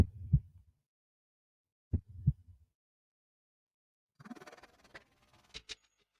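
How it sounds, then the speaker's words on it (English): Amplified heartbeat heard in isolation, two slow, faint paired thumps separated by silence, followed by a brief burst of rustling noise. "Hear the heartbeat?"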